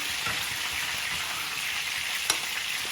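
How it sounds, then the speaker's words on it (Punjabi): Spices and masala slowly roasting in a pan give a steady, close sizzle and crackle that fills the whole clip, with a single sharp pop near the end and no voices. "ਉਹ ਹੌਲੀ ਹੌਲੀ ਭੁੱਜੀ ਜਾਣਗੇ ਤੇ ਇਹਨੇ ਆਪਣਾ ਮਸਾਲਾ ਭੁੰਨ ਲੈਣਾ ਆਪਾਂ"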